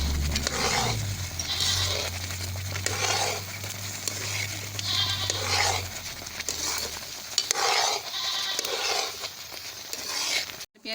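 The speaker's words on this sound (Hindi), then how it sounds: "हमारा हलवा तैयार हो चुका है। इसको हम आहिस्ता आहिस्ता हल्की आँच पे भून रहे थे।" Semolina halwa roasting over low heat, a soft continuous sizzle broken by rhythmic scraping stirs of a spoon in the pan, close by, with a low hum under the first half and no voices.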